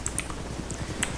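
Computer keyboard and mouse in use, giving a few sharp, quick clicks and taps at irregular intervals over a low, steady background hum; close and fairly quiet.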